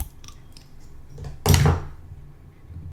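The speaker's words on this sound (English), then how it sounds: "This is the sound of me opening a Black Barrel Imperial Stout." A short, sharp hiss and pop as the cap is pried off a bottle of Black Barrel Imperial Stout beer, standing out briefly against a quiet room.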